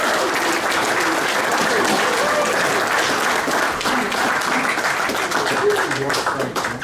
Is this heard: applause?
yes